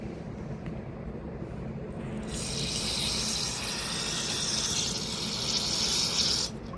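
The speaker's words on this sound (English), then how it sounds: "Then I'm going to take my carburetor cleaner again and try it." Steady hissing spray of carburetor cleaner into a Honda GCV lawnmower carburetor, a close continuous rushing that swells after two seconds and cuts off near the end.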